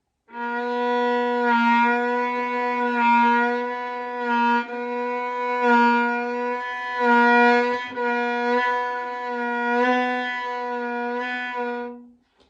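A violin holds a sustained note with wavering vibrato, slow up and fast down, sounding steady and close with no talking.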